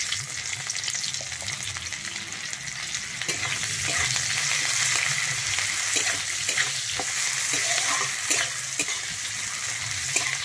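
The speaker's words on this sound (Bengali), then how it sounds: "এরপরে আমি দিচ্ছি একটা কুচানো পেঁয়াজ।" Chopped onion goes into hot mustard oil in a wok after panch phoron for a yardlong bean and potato dish, frying with a loud, continuous sizzle and repeated clicks of stirring, with no talking.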